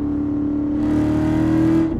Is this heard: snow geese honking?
no